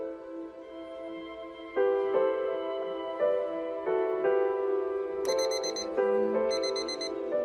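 An alarm clock rings at waking time, giving repeated clear electronic tones that step between pitches with bright bursts of beeping, heard alone and fairly close.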